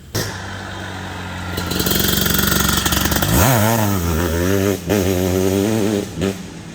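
A 2023 Maico 700cc two-stroke enduro motorcycle engine idles with a steady rattling drone, then revs up in several rising and falling throttle blips, loud and close, with no talking.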